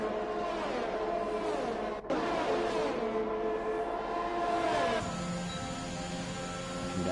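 Formula 1 race cars in the video game F1 2021, racing at the Belgium circuit, give a steady high engine whine with shifting pitch and a brief dropout, then a change in tone as another car's engine joins.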